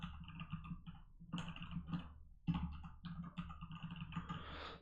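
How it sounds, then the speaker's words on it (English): Steady typing on a computer keyboard during Flutter app coding, close and fairly loud clicks in bursts separated by brief pauses, with no talking. "let's quickly type it here"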